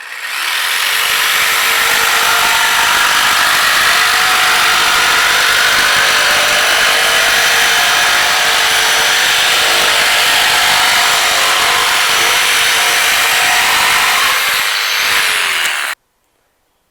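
A power tool cuts a wooden board in a home kitchen workshop, roaring loud and close in one unbroken stretch of about fifteen seconds before cutting off abruptly into silence.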